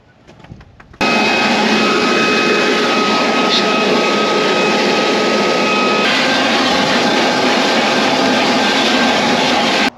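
Compressed air blasts out the engine bay of a 1944 Ford flathead ambulance that sat for over 30 years, a loud, steady, close hiss that starts abruptly after a second and runs without a break to the end.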